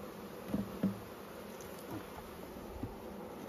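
Honeybees in a well-stocked, crowded hive hum in a low, quiet drone, with a few brief louder bumps and knocks.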